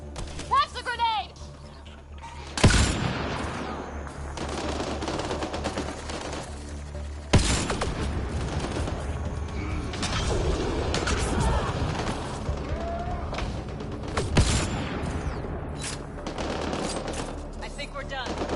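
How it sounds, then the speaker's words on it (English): Grenade blast amid gunfire in the Mass Effect Andromeda video game: sustained rapid weapon fire with several sharp explosive hits, dense and loud, with a voice talking over the chaos. "That's the grenade!"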